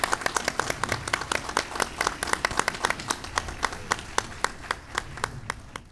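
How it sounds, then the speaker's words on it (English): Sparse audience clapping at a school district board meeting, with distinct individual claps in a loose rhythm from a small group, close by and slowly thinning out. "a warm, welcoming round of applause to his first San Benito CISD School Board meeting"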